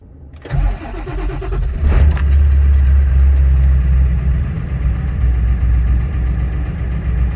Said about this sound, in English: I'm gonna fire up the old Power Stroke here, and we're gonna drive over and pick it up.